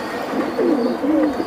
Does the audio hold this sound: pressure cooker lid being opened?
no